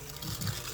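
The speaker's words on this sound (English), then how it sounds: "you're slowly adding the iced water" Iced water trickles into cold butter and flour in a blender, a quiet, soft gush that swells briefly midway and runs alone without talk.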